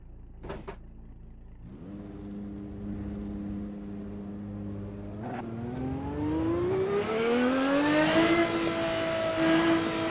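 Bugatti EB110 engine heard from the cabin at top speed in Assetto Corsa: a steady droning whine that climbs gradually in pitch as the car pulls harder, growing louder toward the end with rushing wind noise, no talking.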